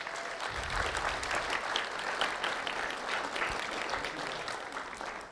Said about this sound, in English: a round of applause for Daniel Andrade, please